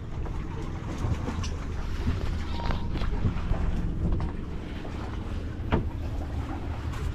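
Constant low engine rumble of a boat with wind buffeting and splashing water, steady and fairly close, no talking.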